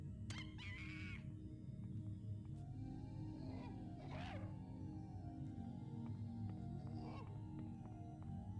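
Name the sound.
monkey sounds in the video game System Shock 2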